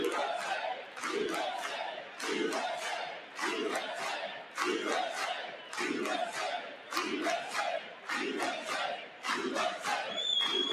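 A large crowd at a political rally chants in unison, loud rhythmic shouted phrases repeating about every second with brief dips between, strong and close throughout.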